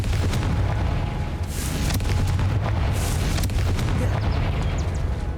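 Confringo fire spell blasting in Hogwarts Legacy, a dense rumbling explosive roar with booming low end that holds loud and steady throughout, with no talking.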